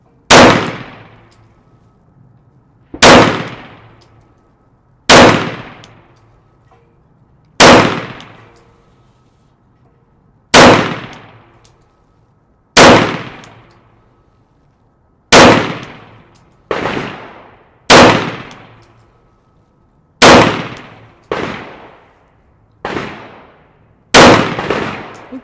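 A PSA Dagger Micro pistol fitted with a red dot sight fires about a dozen loud, sharp single shots, spaced a couple of seconds apart with short ringing decays, while the sight is being zeroed.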